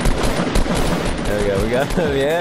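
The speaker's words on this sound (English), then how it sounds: "I was using a machine gun and a machine pistol." Rapid machine gun fire in the video game Fortnite, dense continuous bursts close and loud, with players talking excitedly over the shooting.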